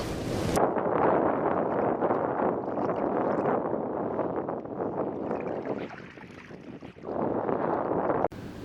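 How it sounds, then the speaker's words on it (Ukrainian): Strong wind gusts across a lake during a cold fishing trip, a loud, continuous roar buffeting the microphone for most of the stretch, easing briefly before surging again. "Вітер піднявся просто е, скажений."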